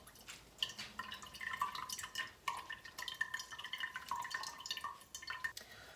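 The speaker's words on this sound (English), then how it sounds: "So you can just push it and drain it through your strainer." Whey from homemade mozzarella drips and trickles through a strainer into a bowl, with faint irregular splashes and small drops heard quietly and close, without any talking.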